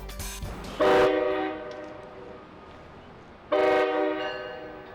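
A high-speed Acela electric train's horn blares twice, loud and close, with a steady rumble of the passing train between the blasts.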